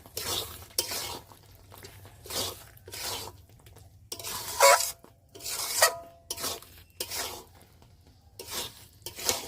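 Spice powder is stirred into a sweet, sour and spicy hog plum pickle with a spoon. About eight close, scraping, rasping strokes come in an uneven rhythm, with quiet gaps between them and no talking.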